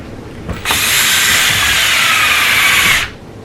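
A power drill spins a 7/16 bit through a piece of wood in one steady, high whirring burst of about two and a half seconds, loud and close, starting and stopping abruptly.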